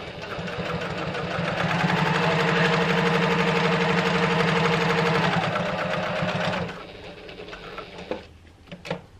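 A Janome HD9 sewing machine runs steadily, top stitching at a 4.5 stitch length, its loud, even motor hum holding for about six and a half seconds before stopping, followed by a few faint handling clicks.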